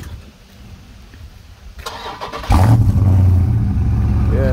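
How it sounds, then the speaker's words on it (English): A Mopar car engine cranks over and fires up, then settles into a loud, steady rumbling idle close by, with no talking. "Might as well start the car because I'm about to get out of here."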